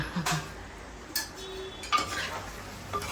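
A spoon scrapes and clinks against a pan while minced mutton keema is stirred, giving a few soft, distinct metallic knocks over a faint background sizzle.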